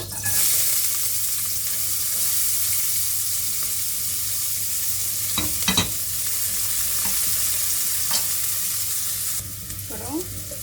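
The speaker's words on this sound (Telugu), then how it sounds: "ఇప్పుడు ఉల్లిపాయలు వేస్తున్నాం ఇందులో" Onions fry in a pan, a loud, bright, steady sizzle with a few spoon scrapes and clinks in the middle and near the end.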